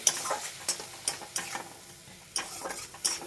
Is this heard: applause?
no